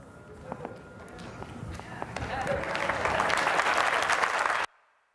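A theater audience bursts into sustained applause after a fast-paced science talk, the clapping swelling steadily and then cutting off abruptly.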